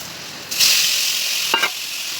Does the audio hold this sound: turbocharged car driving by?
no